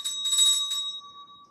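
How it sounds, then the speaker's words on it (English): A small hand bell rings in a quick burst of two or three bright strikes, then a clear ringing tone holds and slowly fades, close and alone with no talk. "probably when I ring the bell"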